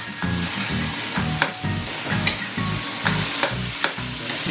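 Pork meat sizzles steadily in a hot pan for a batchoy Tagalog dish, a loud continuous frying hiss with regular clinks and scrapes of a utensil stirring the meat.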